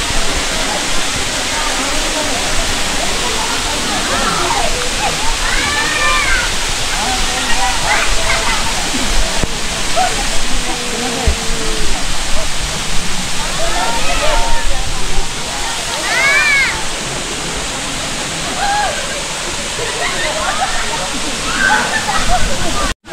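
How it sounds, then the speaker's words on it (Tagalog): Batlag Falls pours with a steady, close rush of water and splashing for the whole stretch, while people talk over the roar. "Pag-akyat nyo rito sa Batlag Falls, ito yung isang falls"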